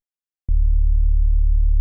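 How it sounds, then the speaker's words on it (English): A heavy bass tone from a Yamaha DX7 synthesizer: a sine wave with a few added overtones, starting abruptly and holding as a steady, loud, sustained note with no talk. "That way it's just a little bit more interesting than a basic sine wave."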